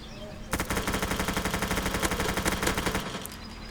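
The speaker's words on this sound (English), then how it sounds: "Now we're going to test it with the MP5." MP5 submachine gun firing a rapid sustained automatic burst in Roblox Mad City, close and loud for about two and a half seconds, then stopping with a few trailing clicks.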